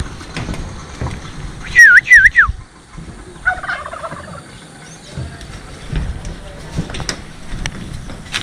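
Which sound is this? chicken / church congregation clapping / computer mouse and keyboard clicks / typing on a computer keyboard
chicken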